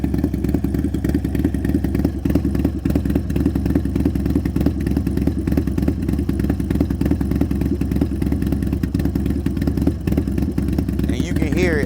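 A motorcycle engine fitted with a big bore kit runs loud and close throughout, its uneven, loping idle pulsing steadily with mechanical clatter underneath.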